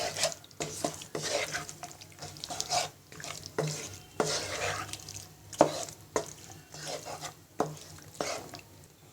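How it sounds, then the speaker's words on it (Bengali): Peas and shol fish with spices being stirred in a pan, a series of sharp spoon scrapes and knocks in an irregular rhythm over a soft sizzle, close and fairly quiet. "এবার সব মশলার সাথে একসাথে মিশিয়ে নিব।"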